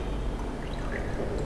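Water poured from one glass into another in a classroom demonstration, a steady continuous splashing pour lasting the whole moment, close and moderately loud with no talking.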